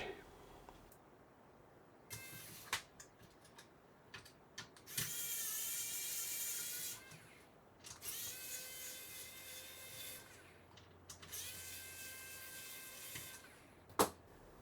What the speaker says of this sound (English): Let's take out these last 4 screws.